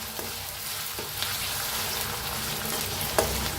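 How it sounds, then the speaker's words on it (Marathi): Ginger garlic paste frying with chicken in a pan for a village-style chicken dish, a dense continuous sizzle with a few soft scrapes of stirring and one louder knock near the end. "बघा पेस्ट घातले अद्रक आणि लसणाची, मिक्स करून भाजून घेऊया"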